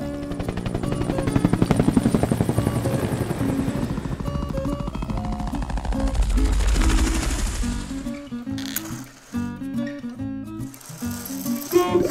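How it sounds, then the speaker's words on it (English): A helicopter's thudding rotor and engine drone, loud and close, with bursts of sharp rapid clatter like gunfire mixed in. "Helicopter."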